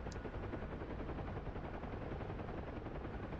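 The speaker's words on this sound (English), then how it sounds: "Got the gunners on return fire" Door gunners on a Huey helicopter fire back in DCS flight-sim combat over the Persian Gulf, a steady rattling machine-gun roar blended with rotor thrum, loud and continuous with no talking.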